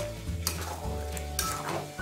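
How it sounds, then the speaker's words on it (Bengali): A vegetable curry mixture with a splash of warm water being stirred in a pan, giving steady scraping and soft sizzling with a couple of sharper clinks of the spoon against the pan. "ভালো করে মিশিয়ে নিচ্ছি"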